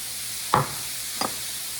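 Onion and chopped jalapeno pepper browning in a pan, a steady low sizzle with two short scraping stirs, close and without speech.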